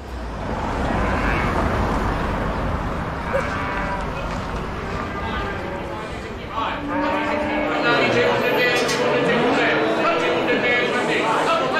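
Several cows moo loudly and repeatedly over a busy outdoor livestock scene, with long drawn-out lowing calls overlapping in the second half and voices talking faintly underneath.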